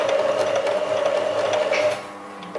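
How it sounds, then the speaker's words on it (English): A basic domestic sewing machine runs a reverse stitch at the end of a pants-edge seam, giving a steady close whir with a tonal hum. It stops abruptly near the end. "I'm reaching the end and I'm going to do a reverse sew."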